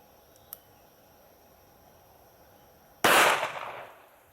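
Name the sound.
gunshot from a phone-shaped gun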